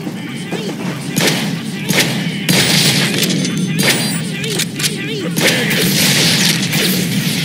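Gunfire in the Deadpool video game fires steadily and loudly in rapid, overlapping shots and booming blasts, with a voice speaking over the shooting.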